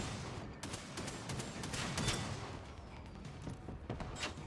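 Gunshots from a Generation Zero firefight: bursts of rifle fire and repeated sharp cracks over a rumbling background, fairly close and continuous, with no voices.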